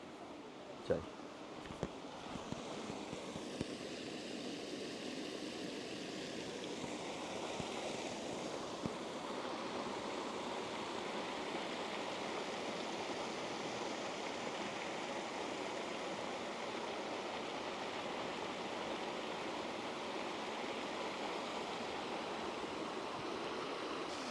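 Strong, steady rush of flowing water in a large park, a continuous broadband roar close by and fairly loud, with a few sharp knocks early on and a voice talking over it.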